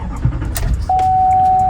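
Volkswagen GTI driving on the road, a steady engine and road rumble throughout with a sustained tonal whine rising in after the first second.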